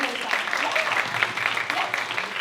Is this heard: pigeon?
no